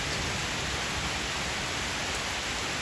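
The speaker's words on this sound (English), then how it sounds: "And now it's raining for several hours each day and in the night as well." Rain falls in a steady, dense hiss with no breaks, close and fairly loud, with no voices or other distinct sounds over it.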